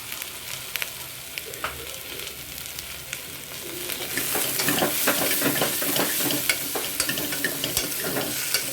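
Vegetables sizzle and crackle in a hot pan, growing louder midway as they are stirred, with scraping and popping bursts; close and steady, no speech.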